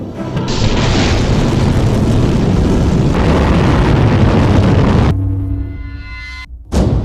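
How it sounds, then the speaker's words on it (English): A Delta IV Heavy rocket launch produces a loud, sustained roaring rumble that holds steady for several seconds and then drops off abruptly. "It all begins with launch, aboard a Delta IV Heavy rocket."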